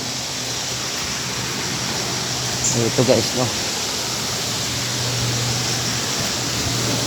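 A forest stream on a hiking trail in Naic, Cavite flows as a steady, broadband rush throughout, with a brief burst of voices talking partway through.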